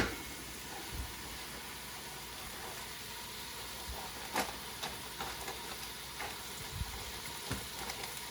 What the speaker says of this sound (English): I just want to brown that lamb a little bit